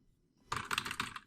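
Text goes onto a computer keyboard in a quick burst of close key clicks after a short quiet start, with rapid, slightly uneven taps and no speech.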